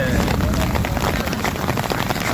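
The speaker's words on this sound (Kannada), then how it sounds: "ಈ ಥರ ಆನೆಕಲ್ ನೋಡಿಲ್ಲ ನಾವು" Heavy hail pelting a road, a dense, loud, continuous clatter and roar of stones striking the surface, with voices talking over it.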